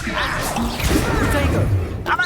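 A Depulso spell cast in Hogwarts Legacy during a duel at an estate gives a forceful whoosh and a crashing thud. It is loud and close, mixed with brief combat noise and a voice.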